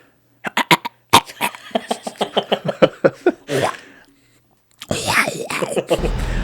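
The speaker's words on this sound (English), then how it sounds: "you got to clear your throat and get ready" A person clears their throat in a rapid run of short, gruff bursts, close to the microphone, followed by a pause and then a rougher noisy stretch.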